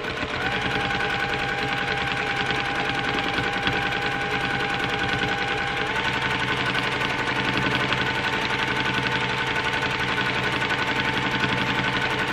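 A domestic sewing machine runs steadily through free-motion quilting of circles in the sashing, a continuous close, even mechanical whir with a rapid needle rhythm and no talking.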